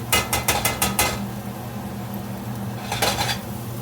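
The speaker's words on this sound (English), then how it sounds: "I'm going to go ahead and do a quick little stir" Metal utensil clattering against a pot as vegetables for leftover corned beef brisket are stirred, a quick burst of rhythmic scraping taps, a pause, then another short flurry, close and fairly loud.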